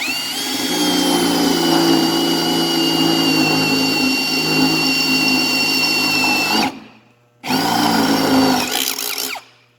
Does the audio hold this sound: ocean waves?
no